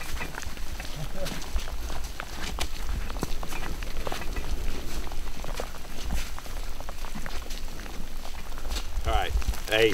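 Steady rain falling outdoors during a trapping trip, a continuous close patter on surfaces with brief louder knocks and rustles near the end.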